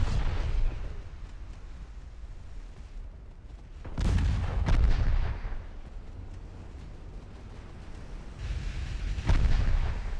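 Warship guns in the naval strategy game Ultimate Admiral Dreadnoughts boom in heavy, rumbling salvos, one big blast near the start and two more later, with a low roar trailing between the shots.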